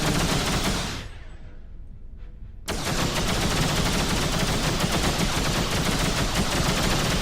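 Laser weapons fire in a space dogfight against pirate ships in X3: Terran Conflict, a dense, loud stream of rapid bursts. The fire briefly cuts out to a near hush, then resumes abruptly at full force, with no voice heard.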